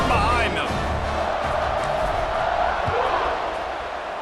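A stadium crowd in College Football 26 roars steadily ahead of the kickoff, a dense wash of cheering that fills the whole stretch while a commentator speaks over it.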